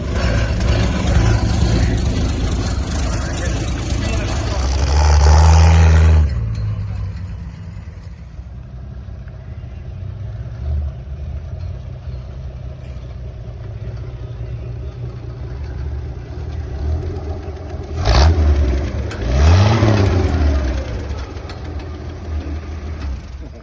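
A rat rod's engine idles with a loping rumble at a car show, swelling into a loud rev early on and two more throaty revs near the end.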